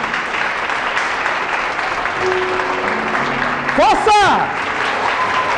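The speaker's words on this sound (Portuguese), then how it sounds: "Aplauda" A church congregation applauds during a sermon, a steady wash of clapping beneath a preacher's voice, and a brief shout rises near the end.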